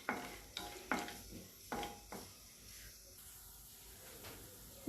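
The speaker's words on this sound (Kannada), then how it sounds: "ತುಪ್ಪ ಕಾಯ್ದ ನಂತರ ಈ ಡ್ರೈ ಫ್ರೂಟ್ಸನ್ನು ಇದರಲ್ಲಿ ಹಾಕ್ತೀನಿ. ಹಾಕ್ಬಿಟ್ಟು ಇದನ್ನ ರೋಸ್ಟ್ ಮಾಡ್ತೀನಿ ಸ್ವಲ್ಪ ಲೈಟಾಗಿ." Dry fruits roast in hot ghee in a pan for carrot halwa: a light sizzle with several sharp stirring clinks and scrapes early on, then the frying settles into a quieter hiss.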